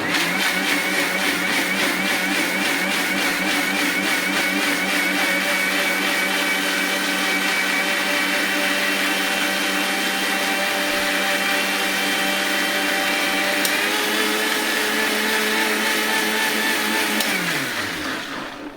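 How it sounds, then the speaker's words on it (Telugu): A Panasonic mixer grinder churning butter runs with a loud, continuous motor whine for the whole stretch, then winds down at the very end. "ఇప్పుడమ్మా ఇంకా మన మిక్సీ గొడవ స్టార్ట్ అవుతోంది."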